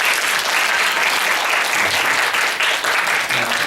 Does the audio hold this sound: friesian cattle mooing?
no